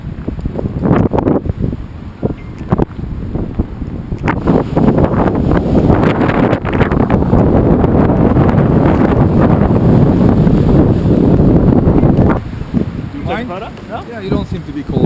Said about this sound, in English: Okay, it's windy,